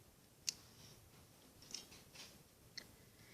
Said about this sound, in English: I'm going to get a scissor and cut this.